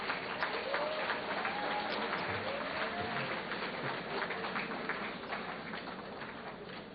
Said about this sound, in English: I would just like to give a big round of applause to all of you